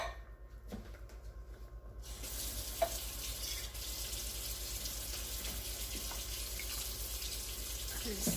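A kitchen faucet turns on partway through and runs in a steady, close rush of water while something is rinsed in the sink, after a few soft handling clunks.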